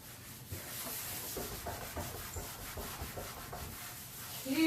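A wet cloth rubs finish into a wooden console table, producing soft repeated scrubbing strokes in a steady back-and-forth rhythm, close and fairly quiet, with no talking.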